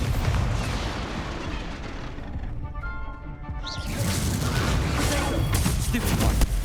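The Incendio fire spell is cast in a Harry Potter video game, producing a loud roaring burst with booming rumble. A brief tonal dip in the middle is followed by a swelling whoosh, and a voice is heard over it.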